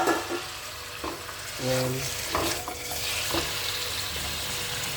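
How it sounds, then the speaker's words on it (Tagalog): Chicken with ginger and garlic hits hot oil in a pan, giving a soft sizzle with scattered stirring scrapes and clinks, moderately close, while a voice speaks briefly. "Ayan, nagpainit na tayo ng mantika. Ayan na yung ating ginger at saka bawang. Isunod natin ang chicken."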